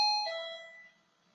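Doorbell ringing indoors, a single two-tone chime that strikes sharply and rings out, fading away within about a second into quiet.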